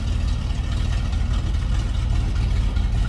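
A deep, steady engine rumble at idle from the 390 V8 of a 1976 Ford F100 street rod, loud and continuous with a low burbling pulse and no voices.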